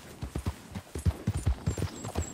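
Horse hooves clip-clopping in the video game Red Dead Redemption 2, a close, fairly quick uneven walking rhythm of soft thuds with no talk over it.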